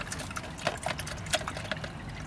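Tap water running for rinsing during a storm drain filter test, a soft, close trickle and splash with a few sharper drips and clinks, fairly quiet.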